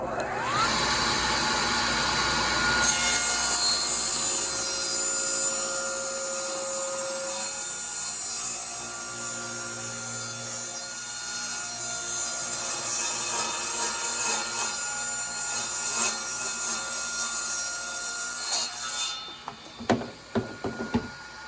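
A power saw cuts through wooden boards for a quilt rack, a long continuous whine and rasp of blade in wood that drops away near the end, followed by a few knocks.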